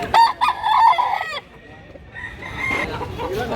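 A rooster crows loudly and close by at a chicken market, one long ringing cock-a-doodle-doo followed by clucking and background crowd noise.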